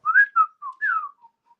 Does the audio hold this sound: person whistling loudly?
yes